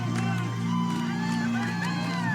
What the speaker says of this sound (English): all of their fans are on their feet, clapping away